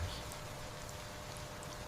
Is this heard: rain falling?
yes